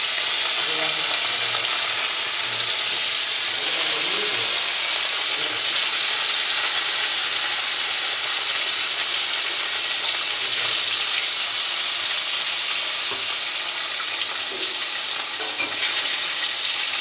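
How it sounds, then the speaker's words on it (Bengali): Fish fries in hot oil in a pan with a loud, continuous sizzle and hiss that stays close and even throughout. Faint clatter from the kitchen comes through now and then, and no one speaks. "মাছটা ভাজবো, কড়া তেল গরম হয়ে গেছে"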